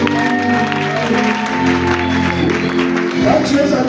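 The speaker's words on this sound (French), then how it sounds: "Acclamons pour Jésus." A church congregation at a VOB Lusaka service applauds for Jesus, a steady wash of clapping and crowd noise lasting a few seconds, mixed with sustained tones and voices.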